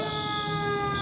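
A fire engine siren wails steadily in a city street near Roxbury Crossing, a sustained, moderately distant tone with no talk over it.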